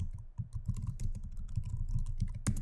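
Keys clatter in a steady run of close, crisp taps as a command is typed on a computer keyboard while installing and checking Ansible, continuing without pause and with no voices.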